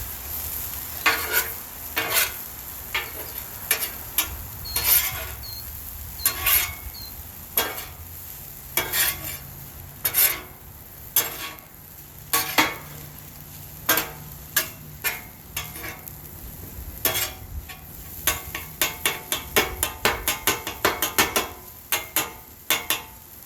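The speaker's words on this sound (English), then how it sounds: "now I'm gonna mix these black beans in with this cooked ground turkey" Spatula stirs black beans into cooked ground turkey on a Blackstone griddle, giving repeated sharp scraping strokes in an uneven rhythm over a faint, steady sizzle, close and fairly loud with no talking.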